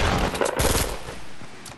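Fortnite Battle Royale gunfire, a loud, dense burst of rapid shots up front that thins out and fades over under two seconds.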